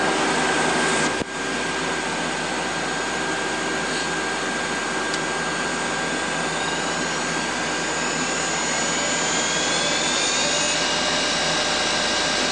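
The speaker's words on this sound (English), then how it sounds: "We're running right now the spindle 1370 RPMs." A 2010 Mazak Nexus QT 200 II CNC lathe spindle running at about 1370 RPM, a loud, steady high whine with a constant tonal hum and a brief click near the start.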